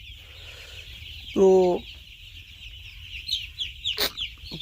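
Chickens in a warm poultry farm shed give a sharp, close cluck, followed by softer scattered clucks and chirps over a steady background hum, with a brief word spoken.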